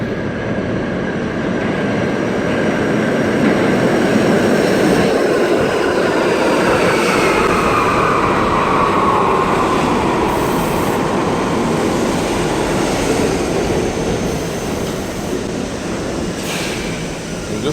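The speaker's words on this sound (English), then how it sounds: "Let's watch the train come." A New York City subway train arrives on a snowy day, a loud, steady rumble and wheel roar with faint rising screeches holding for the full length, close by and without speech.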